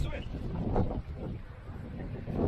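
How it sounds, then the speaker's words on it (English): Wind blows hard across the microphone at Cape Spartel near Tangier, where the Atlantic meets the Mediterranean, a constant muffled low roar with a faint voice underneath. "It's going to be a little bit windy, so I don't know the audio quality."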